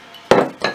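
Garlic with dried thyme, rosemary and a splash of oil pounded in a mortar, two sharp hard knocks in quick succession, close and fairly loud, with no voices.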